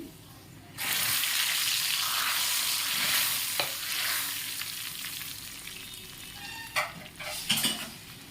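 Tempering spices for a fenugreek leaf dal sizzle loudly in hot oil in a pan, a steady frying hiss that slowly fades, with a few stirring clinks near the end.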